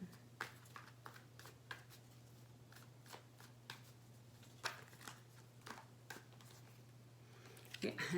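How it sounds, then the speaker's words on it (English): Tarot cards are shuffled and pulled close by in a quiet room, with repeated crisp riffling flicks and slides in an irregular rhythm over a low steady hum. "I'll pull some love cards too"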